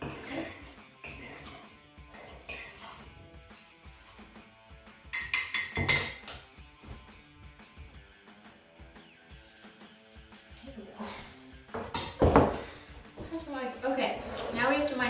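Brownie batter being stirred in a bowl, with utensils clinking and scraping against the dish in irregular bursts while people talk over it.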